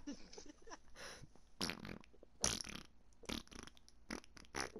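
Repeated fart-like sound effects burst out in quick irregular bursts over roughly five seconds, some loud and sharp, others shorter, with a noisy game backdrop and no clear talk.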